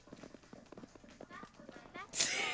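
Hooves clip-clop in the Barbie Race & Ride video game, a rapid, faint, steady galloping patter mixed under game sounds, ending in a louder burst of noise.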